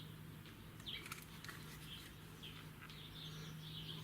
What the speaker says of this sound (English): the birds are making loads of racket outside